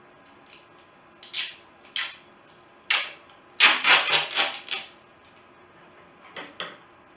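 Scissors snip through tape during epoxy resin prep in short crisp cuts, a few spaced strokes then a quick rapid run of snips, close and clear with no talking.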